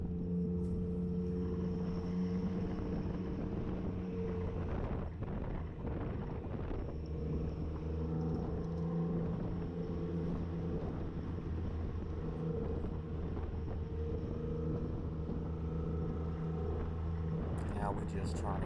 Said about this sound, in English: You got that RLS exhaust.